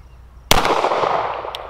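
A single sharp, loud shot from a Rock Island Ultra 10mm double-stack pistol cracks out, followed by a long ringing outdoor echo that slowly fades.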